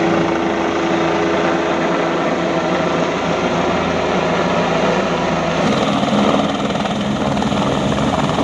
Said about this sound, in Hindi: देख सकते हो हेलीकॉप्टर